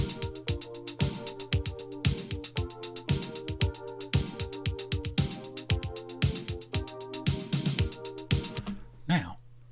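Electric piano in a Rhodes style plays looped, software-generated MIDI chords in a rhythmic, steady pattern, loud and close, with sustained tones under repeated chord stabs, ending in a brief scuffle of noise.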